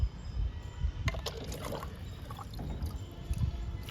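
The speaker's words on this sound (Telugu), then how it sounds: "వాటర్ ఇస్తున్నాను." Water is poured onto compost in a garden, heard as a close, uneven splashing and gurgling with low thumps as it lands.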